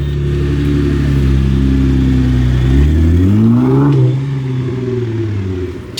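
A Nissan GTR sports car's engine revs loudly up close in Monaco, a sustained deep roar that climbs sharply in pitch around the middle, then settles into a lower rumble as it fades slightly.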